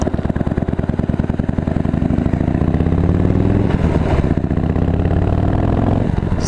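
A Harley-Davidson Road King Special with factory headers idles loud and close, its lumpy, uneven V-twin beat steady and then swelling briefly as the throttle is blipped.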